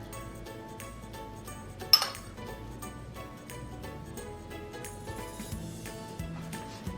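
Eggs, oat flakes and coconut going into a bowl, with soft clinks of a spoon and dish, a brighter knock of glass or ceramic, and light handling noises, quiet and close.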